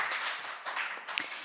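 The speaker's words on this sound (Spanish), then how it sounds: "les quiero pedir de nuevo que demos pero un aplauso más fuerte para toda la mesa" An audience at a panel on arts education and local heritage claps in a brief burst of applause, a dense patter of hands that swells, dips briefly, then returns.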